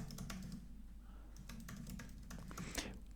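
Quiet, steady clicking of a computer keyboard as someone types, soft and close with irregular keystrokes and no voices.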